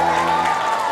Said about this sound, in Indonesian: Tepuk tangan tuh MC kita.